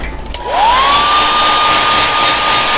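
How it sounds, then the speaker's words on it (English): A heat gun or hair-dryer-style blower switches on, its whine rising quickly to a steady high tone with loud rushing air, close and continuous, while drying and heat-setting homemade fishing bait. "We're going to thoroughly heat set this. We want to get this good and dry."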